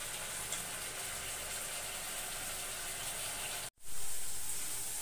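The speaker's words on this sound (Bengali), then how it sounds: "মশলাটা একদম কষানো হয়ে যাচ্ছে, একটু অনেক তেল বেরিয়ে যাচ্ছে" Spice paste frying in oil in a home kitchen pan gives a steady, even sizzle and hiss that runs throughout at moderate level, with one brief dropout near the end before the sizzle returns louder.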